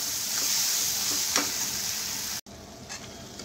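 Masala spices fry in oil for egg bhurji, giving a steady, fairly quiet sizzle with a few stirring scrapes. A brief cut interrupts the sound, which then resumes more softly.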